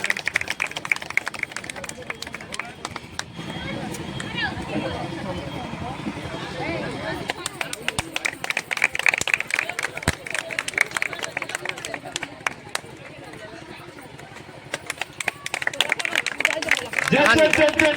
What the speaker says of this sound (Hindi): आप जो तालियों से स्वागत करें